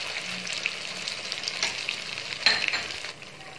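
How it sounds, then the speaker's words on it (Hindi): Wheat-flour malpua frying in ghee just after being flipped, giving a close, steady sizzle with small crackles and one sharper pop, fading slightly toward the end, with no talking. "देखिए एक तरफ से हमारा जो ये गोल्डन ब्राउन हो चुका है मालपुआ, अब हमने इसे पलट दिया है"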